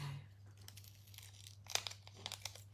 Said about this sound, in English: my scissors don't want to.